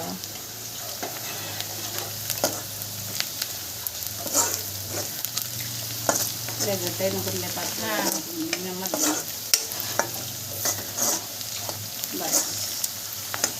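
Fish curry with a prepared gravy simmering in a pot, with steady sizzling and repeated stirring scrapes throughout, while voices talk intermittently over it.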